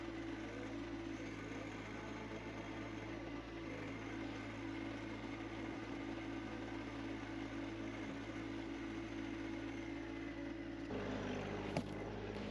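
A John Deere 1025R compact tractor pushing about 3 inches of snow with its front bucket on a driveway; a steady engine drone with a constant low hum runs throughout, alone, with a brief clunk near the end.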